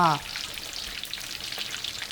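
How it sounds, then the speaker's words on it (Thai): Soft, bubbling crackle of sea bass deep-frying in oil, a continuous fizzing hiss after a brief voice at the start. "แล้วเราก็ทอดไปเรื่อยๆอีกนะคะอีกที่ 4 นาทีค่ะ"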